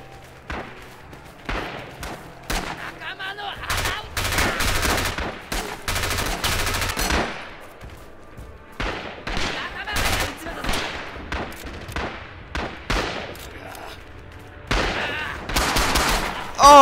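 Machine gun fire in the Rising Storm video game, dense bursts of rapid automatic shots repeating in long volleys, loud and sustained across most of the stretch with brief pauses between.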